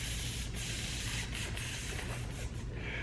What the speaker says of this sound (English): He turned the hose on the flames